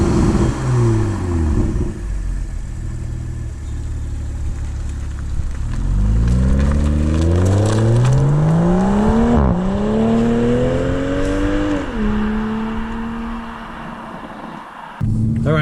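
2021 Toyota GR Supra with a 3.0L turbo engine, loud and close, revving and accelerating hard through several rising gear pulls, exhaust note climbing in pitch with brief dips at each shift.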